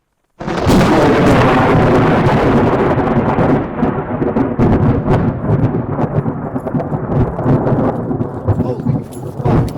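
Field recording of a close lightning strike: a sudden sharp crack breaks the silence, then loud, rolling thunder rumbles and crackles steadily for several seconds.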